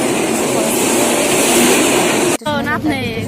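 A train rumbles loudly and steadily nearby at a railway station, then the noise cuts off abruptly and a faint voice is heard in the quieter aftermath.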